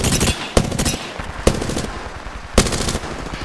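Rapid automatic gunfire in a video game, with several bursts of shots and sharp loud cracks breaking through a dense, continuous barrage, close and loud with no speech.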